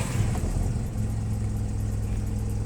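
Volkswagen engine with EPC light, throttle valve fault codes and idle surging runs steadily at a low idle rumble, close and continuous with a faint rhythmic pulse, no voices.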